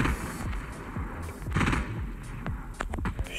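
Gunfire in the video game Fortnite, with rapid bursts and scattered single shots crackling through a busy in-game soundscape, moderately loud, with no one talking over it.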